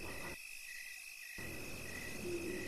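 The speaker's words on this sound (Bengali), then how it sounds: "ঝিঝি পোকাদের ডাক আজ খুব আগ্রহ নিয়ে শুনছি।" Crickets chirp at night along a pitch-dark, dry rural road on a moonless night, a steady high-pitched trill that runs continuously and clearly, with no voices.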